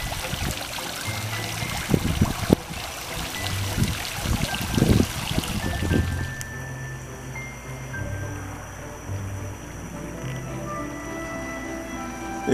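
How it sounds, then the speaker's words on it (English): Water ripples and trickles from a park fountain in Monterosso at night, a soft continuous splashing with a few louder rustling bursts early on, then a quieter steady flow. "Sounds of rippling water are accentuated by the stillness of the night."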